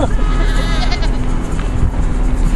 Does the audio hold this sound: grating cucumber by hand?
no